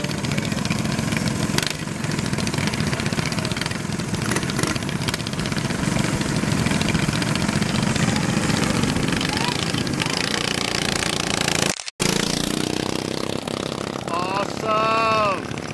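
Small minibike engines rev and snarl at a drag-racing meet, loud and close with a buzzing, continuous drone. One brief cutout comes near the end, then revving resumes with rising whines.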